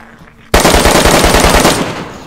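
Loud rapid automatic gunfire in the survival video game DayZ, a sudden burst of about eight quick shots up close, then a fading echoing tail.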